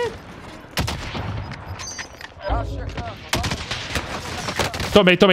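Gunfire in the video game Call of Duty Warzone, with a sniper rifle among several sharp shots and bursts scattered through the passage, while players talk over it.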